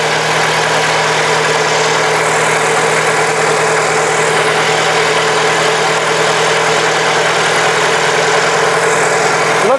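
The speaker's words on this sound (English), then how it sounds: "enjoy the motor running" A Ford Model T engine runs steadily under load on a dynamometer, a loud, continuous droning roar with constant vibration and no pauses.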